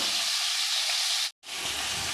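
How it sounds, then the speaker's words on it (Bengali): Bhola fish frying in hot oil in a pan, giving a steady, bright sizzle with a brief drop to silence midway before resuming at full strength. "লাল লাল করে মাছটা ভেজে নেব।"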